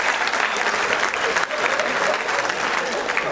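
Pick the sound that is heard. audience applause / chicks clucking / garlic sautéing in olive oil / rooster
audience applause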